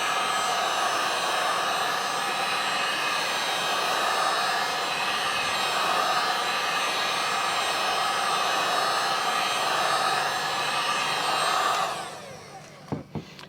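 A hair dryer blows steadily and loudly for about twelve seconds while heating a dyed Discmania Enigma disc golf disc, then cuts off, leaving a few faint knocks.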